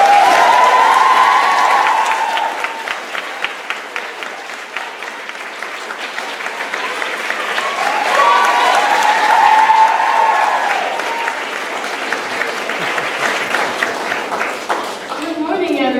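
A convocation audience at Westover applauds Fiona Boyle with loud, sustained clapping that fills the full sixteen seconds, broad and even, with a brief murmur of voices near the end.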